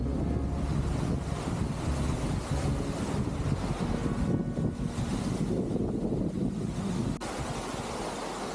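Steady roar of a waterfall near Nashik, a broad continuous wash of falling water with gusty wind buffeting, constant and fairly close throughout.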